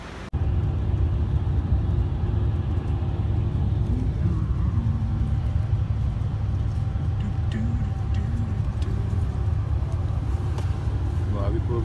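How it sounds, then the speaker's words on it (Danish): Steady low engine rumble and road noise inside a bus riding toward Bratislava, constant and close throughout, with faint voices over it. "Nå er vi på bussen til Bratislava."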